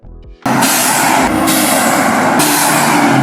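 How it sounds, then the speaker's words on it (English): Turbo blow-off valve on a Hyundai Elantra N vents to atmosphere with a loud, sustained broadband hiss that bursts in suddenly after a brief low engine note and holds for about three seconds. "you will also get that awesome turbo pressure blow-off sound when you let off the throttle"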